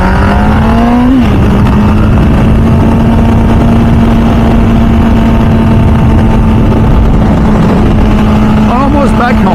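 An MV Agusta F4 Senna motorcycle engine pulls hard after a downshift, a loud continuous roar rising in pitch as the rider leans and gets back on the gas, with wind noise throughout.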